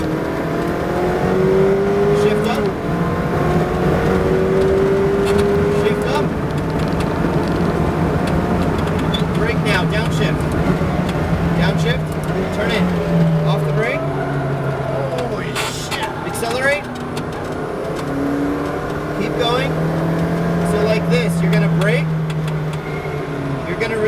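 McLaren GT4 race car accelerating on a track, its engine revving steadily and rising in pitch through gear changes, loud and continuous throughout, with an instructor's voice talking over it.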